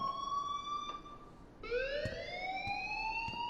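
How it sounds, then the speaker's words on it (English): An alarm in the video game Life is Strange rings as a steady electronic tone that breaks off, then rises again in a continuous wailing sweep, loud and sustained with no talk. "please turn off that alarm since that's your job"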